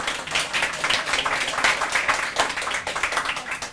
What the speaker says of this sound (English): I'm having applause for everybody